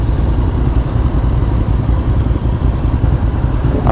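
A classic motorcycle engine runs close by, a loud, steady low rumble with a fast, even pulsing beat and no voices over it.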